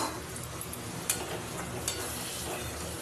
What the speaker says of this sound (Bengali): ভালো করে এমনভাবে কষিয়ে নেবে, চারিদিক দিয়ে যেন তেল ছেড়ে আসে